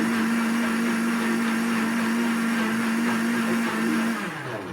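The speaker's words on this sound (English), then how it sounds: "I have minced up some green apples and put them in a little bit of water, and now I am gonna blend." Blender whirring steadily as it purees minced green apples in a little water, a loud continuous motor drone that holds for about four seconds before winding down.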